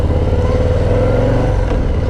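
A Harley-Davidson Low Rider S motorcycle engine runs steadily at speed on a highway, a loud, continuous low rumble with a faint clattery edge and no speech over it.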